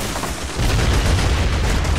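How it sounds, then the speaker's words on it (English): Artillery fire in the war strategy game Strateejik Battles: a dense, continuous barrage of booming impacts and shots, loud and sustained, with low rumble swelling after the first half second. "Ooh. Artillery. That was a good shot."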